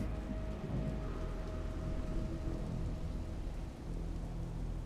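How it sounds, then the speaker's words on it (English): Steady rain in the video game XCOM 2: Long War of the Chosen, a continuous hiss of falling drops with a low rumble like distant thunder underneath, with no talk. "We're getting a little wet in the rain, but we'll survive"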